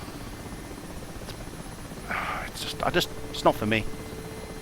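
Mi-8 helicopter in the flight game DCS World, a steady rotor and engine drone running underneath, while someone talks briefly over it.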